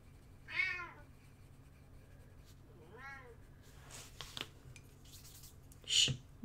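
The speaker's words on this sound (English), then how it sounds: "Shh, noisy cat." A cat indoors meows twice, each a clear, drawn-out cry spaced a few seconds apart, against a quiet room with faint clinks and small knocks, followed by a sharp high squeak near the end.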